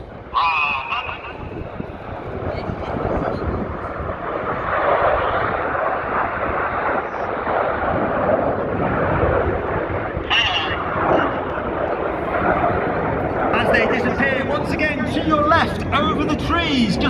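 Red Arrows jets pass overhead at the Sola airshow in 2024, a loud continuous broadband roar that swells as they go by, with commentary over the top.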